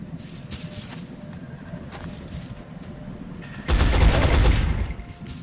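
Laser pistol gunfire in the strategy game XCOM Enemy Within, a sudden loud burst of rapid shots lasting about a second over a steady low game background.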